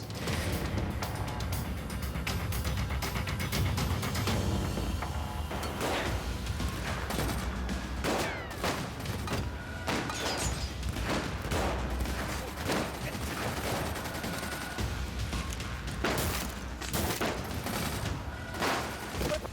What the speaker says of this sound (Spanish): ¿Para qué disparas?